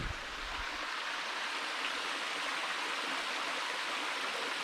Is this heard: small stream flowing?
yes